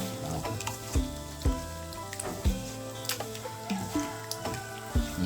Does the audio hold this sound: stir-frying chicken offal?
yes